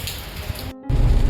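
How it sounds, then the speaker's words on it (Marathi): Dense, hissing rain pours down steadily, briefly cutting out for a split second before resuming louder. "मस्त पाऊस पडतोय"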